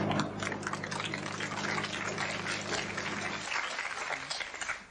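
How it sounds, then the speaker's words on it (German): Studio audience applauding during a 1981 German TV comedy news show, a dense, steady wash of clapping that fills the whole stretch and eases slightly toward the end. "Applaus"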